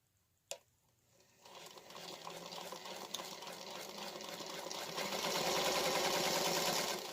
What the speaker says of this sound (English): So let me sew the second one for you.